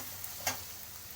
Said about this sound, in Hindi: अदरक लहसुन मेरा थोड़ा फ्राई हो गया है।